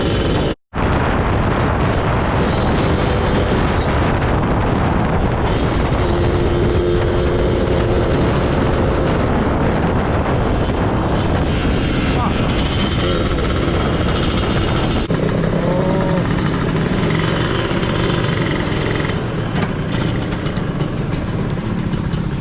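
A two-stroke motorcycle engine runs loud and close for the whole stretch, a dense rough rasp with shifting pitch as it revs, after a brief cut near the start.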